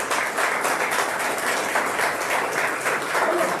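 An audience at a press conference applauds steadily throughout, a dense, even wash of many hands clapping at close range without talk.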